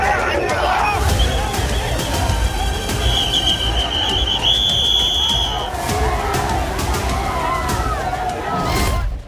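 A Hanuman Jayanti procession crowd in the streets of Mandya, a loud, dense roar of many voices kept up throughout, with a shrill whistle piercing through midway.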